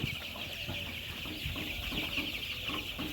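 Tiger breed chickens cluck and murmur steadily close by in a farm setting, a busy flock with no talk over it.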